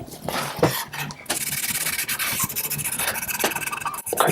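Spilled wood stain rubbed into a blanket by hand during a guitar kit build, a close, continuous rough rubbing and scrubbing with short pauses and no talking.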